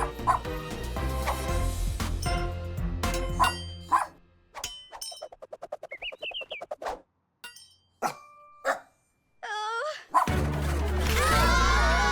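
Cartoonish barks and yips from an animated cartoon dog in a rapid string amid clangs and tonal sound effects, followed by a loud burst of music-like noise.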